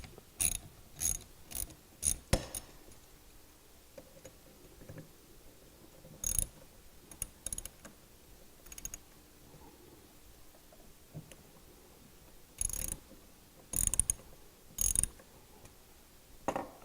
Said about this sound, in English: I'm going to use a 4mm hex head 3/8 inch socket. Let's loosen these up just a bit.